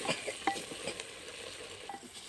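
Chicken and fried potatoes are stir-fried in an earthen clay pot. A ladle gives soft, irregular scrapes over a faint, low sizzle, close by and quiet, with no talking.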